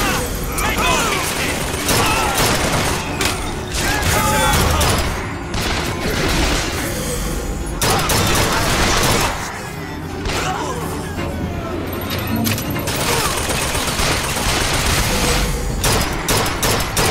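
Sustained gunfire in the video game BioShock Infinite, loud and continuous bursts of rapid shots and booms filling the scene, with character voices speaking over the battle.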